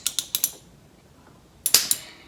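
Ratchet wrench with an extension working on spark plugs: two short bursts of quick metallic clicks, about four each, close up, separated by a quiet pause, with no talk.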